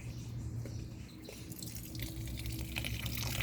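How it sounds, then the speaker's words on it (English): Water splashing and trickling onto a pumpkin plant in a home garden, faint close pouring with drips and patters that grow slightly busier toward the end. "And I'm watering my pumpkin."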